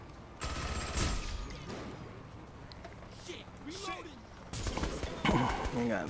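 Rapid automatic gunfire from a minigun in the video game Saints Row: The Third, loud bursts of dense crackling shots recurring through the scene with game effects and voices mixed in.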